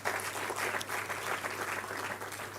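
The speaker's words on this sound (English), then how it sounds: "Please give a round of applause." Audience applause at a university professorial lecture, steady dense clapping from a seated crowd throughout, with a low constant hum underneath.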